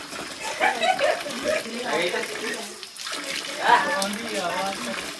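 A spring-fed stream at a village flows with a steady watery rush, close by, while someone talks over it throughout.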